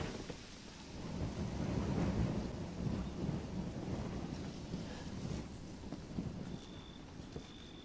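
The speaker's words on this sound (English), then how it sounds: "Doesn't she know it's thundering and lightning?" Thunderstorm in the video game Resident Evil 7: a deep, sustained rumble of thunder rolling under steady rain and wind, loud and enveloping, fading slightly toward the end.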